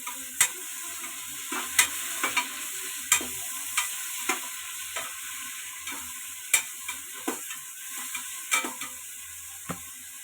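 Tomatoes and green chillies fry in a pan for chicken biryani, a soft steady sizzle punctuated by a dozen or so sharp ladle clinks and scrapes as they are stirred, close and without speech.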